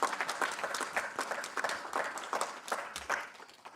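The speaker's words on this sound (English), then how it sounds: "If we could please give Professor Opara a round of applause." An audience at a university professorial inauguration claps in a steady, moderately loud burst of many hands, with no talk over it.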